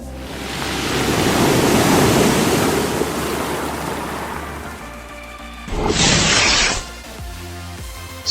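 Broad ocean surf washes in a steady roar, swelling and easing, with a sharper crashing burst of water near the end.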